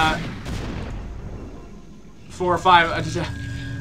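Cannons firing in a StarCraft II Zerg versus Protoss match, heard as a series of dull booming bursts early on. A commentator's voice takes over afterward.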